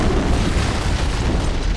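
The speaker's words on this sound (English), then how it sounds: "I'd guess an antimatter charge." An antimatter charge detonating aboard a ship in a Halo: Combat Evolved cutscene, a dense, continuous roaring blast that fills the whole moment.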